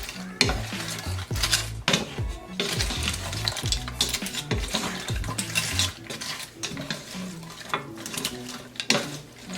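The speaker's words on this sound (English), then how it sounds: "Just gonna mix it with the sauce." Chips being stirred into sauce in a pan while cooking chilaquiles: a steady run of scraping, clinking stirs against the pan over a soft sizzle, close and fairly loud, with no talking.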